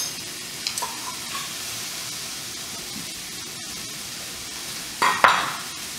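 Vegetables sizzle and get stirred in a pan for a Vietnamese macaroni soup, with a steady soft frying hiss, a few light utensil clinks and two sharper scraping clatters near the end.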